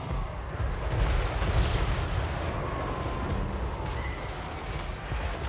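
Artillery fire in the Total War: Warhammer 3 strategy game, deep rumbling booms rolling together into a dense, continuous battle roar with scattered sharper bursts, fairly loud throughout.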